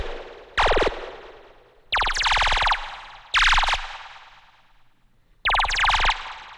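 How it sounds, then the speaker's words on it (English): Pigments synth preset Phoenix of the Forest from a psytrance bank: four bright, bouncy zapping hits with springy, boing-like wobble, each tailing off in a fading echo, loud and close with gaps between. "What I did is I have a Pigments preset here"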